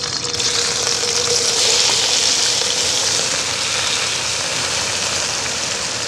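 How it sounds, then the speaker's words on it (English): Food hits scorching hot oil in a pan, loosing a loud, steady, close hiss of frying that holds at a constant level throughout, with no voices. "Oil is scorching hot. Let's toss this in."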